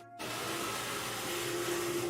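A workshop shop vacuum runs steadily while hooked to a woodworking machine, its hose clogged so wood chips blow back instead of being pulled through; a loud continuous roar with a rising whine, near and alone.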